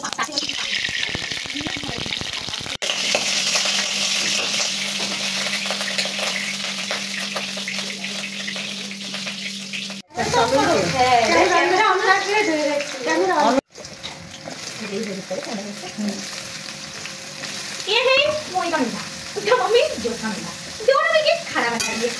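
Oil heating and sizzling in a pan for cooking potatoes and vegetables in a home kitchen, a steady frying hiss with stirring and scraping clatter, broken by abrupt cuts and later mixed with voices talking.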